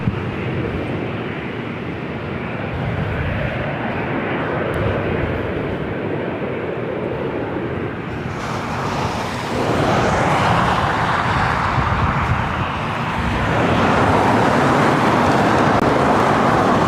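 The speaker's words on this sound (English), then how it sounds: "This is Southwest Airlines 2979 taking off to Denver, Colorado on" A Southwest Airlines Boeing 737-700 departs LAX, its engine noise building from a distant rumble into a louder, broader roar that swells again toward the end, with no talking.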